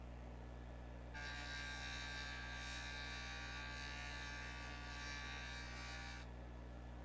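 JOOLTOOL lapidary machine smoothing the chipped edge of a moonstone, a steady high whirring grind that starts after a second, holds for about five seconds and then stops, over a low constant hum.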